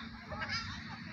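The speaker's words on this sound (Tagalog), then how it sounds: "natutuwa ako dito sa mga ibon." Birds honk faintly outdoors near St. Catherine Palace, geese-like calls mixed into a quiet, steady ambient wash with soft murmuring in the background.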